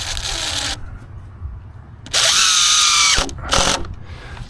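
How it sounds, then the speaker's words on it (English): A power drill drives screws through a wooden block into a 2x10 board outdoors, with two loud whirring bursts, a long one and a short one, separated by quieter handling sounds. "So I screw a block to my 2x10 right there."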